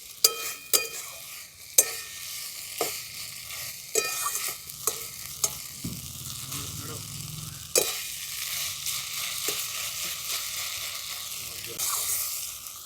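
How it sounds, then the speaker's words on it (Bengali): Drumstick flowers and mixed vegetables are stirred as they fry in a pan, with a soft continuous sizzle and repeated sharp spatula scrapes and taps against the pan, close and fairly quiet. "এখন সমস্ত সবজিগুলো ফুলের সঙ্গে খুব ভালো করে নাড়াচাড়া করে নিয়েছি"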